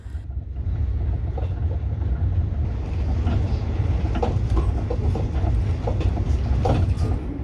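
Amtrak Pennsylvanian passenger train rolling into Philadelphia's 30th Street Station, heard from inside the coach: a steady, loud rumble of wheels on rail with scattered clicks and clanks throughout.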